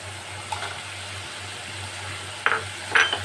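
Fried potatoes drop into spiced masala in a pan, giving two brief clattering, sizzling hits near the end over a steady low hum.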